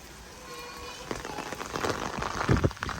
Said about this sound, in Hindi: बारिश तेज होती जा रही है अच्छी खासी।